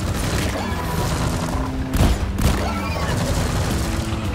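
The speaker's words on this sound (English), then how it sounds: "At least they're shooting." Rapid gunfire rattles through a Deep Rock Galactic bug fight, dense bursts of shots with a couple of heavier booms near the middle, with voices talking over the action.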